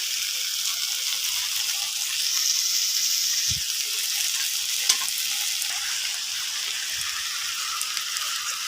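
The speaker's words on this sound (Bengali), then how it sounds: "কচুর লতিটা একটু হালকা ভাজি করে নিলাম" Taro stolons (kochu loti) frying in a pan, giving a loud, steady sizzle with stirring scrapes and a few sharp clinks throughout.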